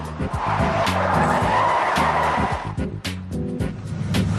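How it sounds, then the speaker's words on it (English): A car skids under full braking with loud, sustained tire squeal and engine noise close by, the screech running through most of the stretch with brief dips and resuming toward the end. "You were full on the brakes, but you were steering into the skid."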